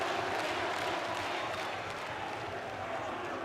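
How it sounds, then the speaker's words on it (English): Arena crowd applauding and cheering after a French goalkeeper's save in a France v Croatia handball match at EURO 2012, a dense, steady roar of clapping and voices filling the hall throughout. "he milks the applause"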